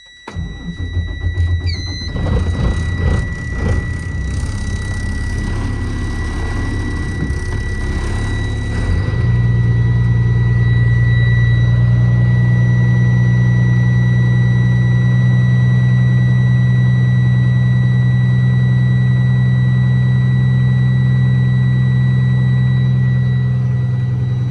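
A 2007 Freightliner M2 crane truck engine with 242,000 miles cranks and fires up, then settles into a steady, loud low rumble of idling that continues to the end.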